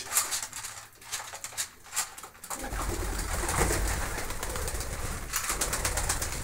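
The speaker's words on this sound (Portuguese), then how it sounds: "Tá aí a pombada aí, ó." Pigeons cooing in a loft of white pigeons, with soft repeated coos and a few flutters at first, then a closer, fuller murmur of cooing and rustling that carries on steadily.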